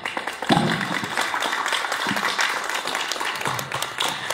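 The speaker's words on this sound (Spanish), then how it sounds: "Vamos a darle un aplauso al padre Nachito, por favor." An audience at a church seminary raffle prize ceremony applauds steadily for several seconds with dense, continuous clapping and a few sharper claps near the start.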